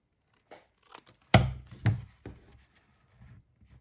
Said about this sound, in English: I'm going to cut this about right